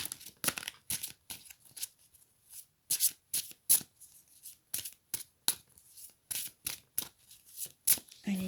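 Playing cards being shuffled and cut by hand, a close, quiet series of short crisp riffling and slapping bursts in an irregular rhythm, with brief pauses between them and no talking.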